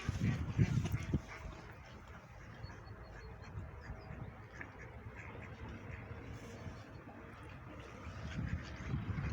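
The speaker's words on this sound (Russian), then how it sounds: "сюда все утки плывут" Ducks swimming toward the bank and quacking, a few faint quacks near the start and end over quiet outdoor background, with soft voices nearby.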